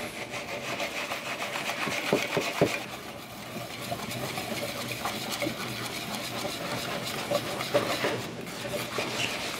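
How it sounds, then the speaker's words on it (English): Salt whisked into homemade donut batter, a steady scraping and stirring rhythm that runs continuously and fairly close, with no voices over it. "Add this in. And give it a nice whisk."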